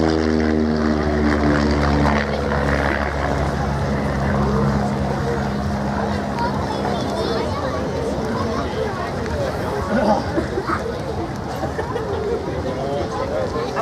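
A de Havilland Chipmunk propeller aircraft flies a display pass in a flight-simulator airshow, its engine drone loud and continuous with a falling pitch as it goes by. A commentator speaks over the engine throughout.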